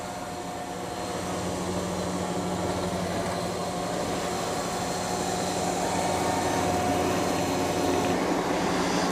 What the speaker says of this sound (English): So it's vacuuming and mopping.